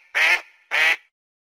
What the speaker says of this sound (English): D as in duck.